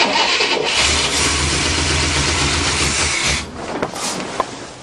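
A 1967 Cadillac engine cranks and catches, a loud, close, rough roar that holds steady, then drops and sputters unevenly near the end.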